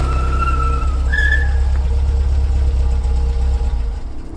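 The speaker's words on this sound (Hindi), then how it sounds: "तभी अंधेरे के भीतर से एक काली ऑल्टो कार आगे आई जिसकी हेडलाइट बंद थी" A black Alto car rolls forward out of darkness with its headlights off, a steady low engine rumble running throughout, with a brief rising tonal squeal partway through, cartoon style.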